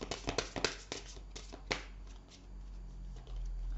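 Tarot cards being shuffled by hand, a rapid run of crisp riffling flicks and taps over the first two seconds, then quieter handling, close and faint with no talk.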